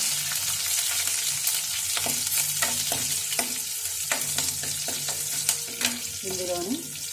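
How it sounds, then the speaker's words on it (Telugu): Mustard seeds and green chillies fry in a hot pan for upma, a steady sizzle broken by sharp pops and crackles and occasional stirring scrapes, close and fairly loud. "ఆవాలు అయితే కొంచెం వేసుకోవాలి. ఇప్పుడు వేయించుకుందాం."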